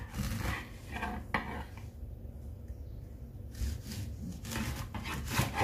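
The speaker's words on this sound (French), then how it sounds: "Ensuite on coupe l'ananas en deux comme ceci." Knife cutting through a pineapple into halves and quarters on a board for a pastry recipe, with rubbing, scraping strokes and a sharp thunk near the start, close and moderately loud, a quieter pause in the middle, no talking.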